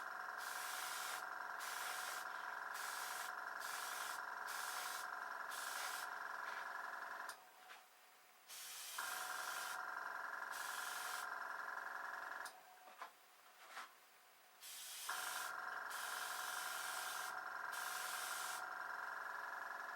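An airbrush compressor hums steadily, cutting out twice for a few seconds and kicking back in, with a rhythmic pulsing beat throughout, close and fairly loud.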